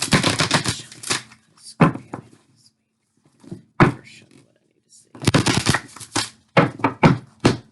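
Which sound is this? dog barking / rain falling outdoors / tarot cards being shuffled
tarot cards being shuffled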